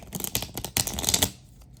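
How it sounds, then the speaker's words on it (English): A Storymatic card deck being shuffled, giving a quick run of crisp riffling and slapping bursts for just over a second, then going quiet. "Let me shuffle up my other little Storymatic deck and see what we get."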